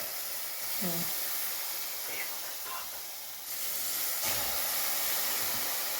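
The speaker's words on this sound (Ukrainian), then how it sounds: "Беремо кружечку водички, окропу прямо гарантем і трошки ляєво, щоб вона там паром трохи цього всього так" Boiling water is poured over strudli dough in a pot and sends up a steady hiss of steam. The hiss runs loud throughout, with faint bumps and a voice speaking briefly underneath.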